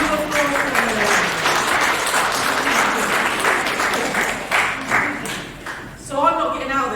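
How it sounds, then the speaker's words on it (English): Audience applause at a mind body spirit show, steady clapping from a crowd filling the room for several seconds, then tapering off with a voice speaking over the end. "A big round of applause for them."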